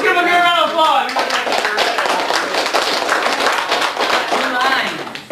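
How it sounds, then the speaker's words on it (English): An audience applauds a speaker at a talk, with dense, steady clapping from a crowd filling the room for several seconds, and a voice speaking at the start before the clapping takes over. "Let's give him a great round of applause."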